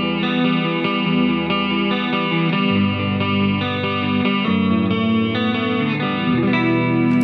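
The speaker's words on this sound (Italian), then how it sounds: "questo compressore colora in maniera molto piacevole il suono, creando anche delle distorsioni armoniche" A compressor colouring a musical signal with pleasant harmonic distortion, heard as a loud, dense, saturated sustained tone with rich overtones and shifting notes, steady and upfront with no voice.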